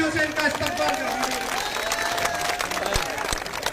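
A crowd at a political gathering in Udaipurwati, Rajasthan, applauds to welcome a cabinet minister. The clapping is loud, sustained and full of sharp individual claps, mixed with crowd noise and an announcer talking over it.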